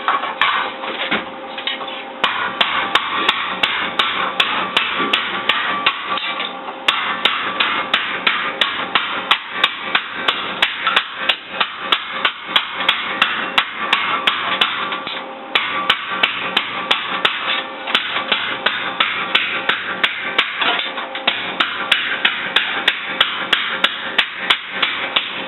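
A hand hammer strikes metal while shaping a handmade motorcycle fender, with sharp ringing blows in quick irregular bursts and short pauses between runs, close and clear, with no voices.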